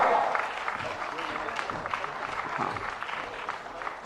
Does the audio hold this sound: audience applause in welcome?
yes